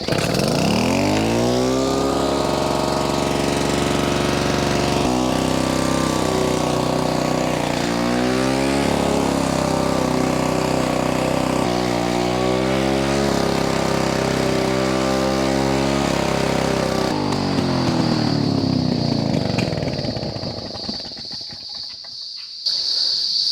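A petrol lawn mower fires up and runs, its engine rising into a loud, steady buzzing drone with several shifts in pitch as the load changes, then cutting off and fading near the end, with no talk.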